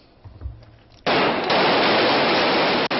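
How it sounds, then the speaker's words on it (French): Kalashnikov rifle bursts fired into the air to scatter Hamas demonstrators in Gaza: a low rumble, then a sudden loud, dense sustained crackle of rapid fire that lasts about two seconds and nearly drops out near the end. "Des rafales de Kalachnikov tirées en l'air pour disperser les manifestants du Hamas."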